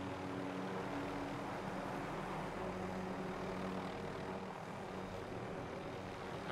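Continuous droning hum of a drone flying overhead in Call of Duty: Warzone, a steady mid-level buzz with faint background game noise and no talk.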